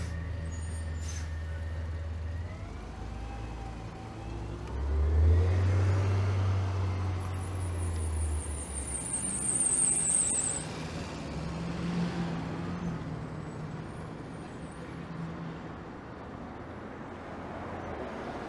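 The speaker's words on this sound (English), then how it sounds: "That garbage truck has a little monkey on the back." A garbage truck on a wintry downtown Toronto street rumbles past with low engine drone, a brief high hiss like an air brake in the middle, heard from a bike lane amid steady traffic and wind noise.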